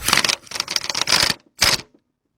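A half-inch impact gun tightens a small bolt during a timing belt and radiator job, giving several loud, rattling bursts with short pauses between them, then one last short burst before silence.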